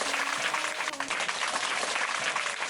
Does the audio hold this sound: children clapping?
yes